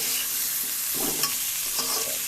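Thinly sliced potatoes fry in oil in a pan, giving a continuous close sizzle with a couple of brief stirring scrapes and no voices.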